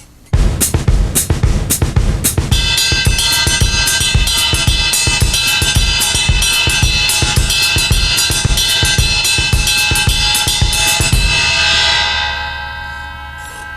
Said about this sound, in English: let's come over here to the bell of the right cymbal and play a pattern like this.